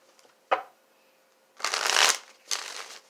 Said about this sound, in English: I don't know why these cards don't want to shuffle.